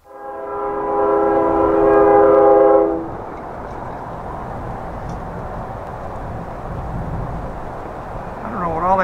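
A loud, sustained horn blares for a few seconds from a CSX train with a smoking, burning electric motor, then the steady rumble of the passing train continues, with a voice briefly heard near the end.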